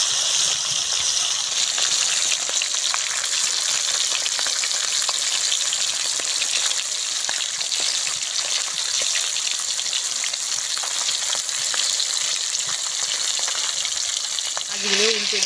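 Four large pieces of freshly cut local fish frying in oil produce a strong, unbroken crackling sizzle up close, with a faint tonal sound rising at the very end.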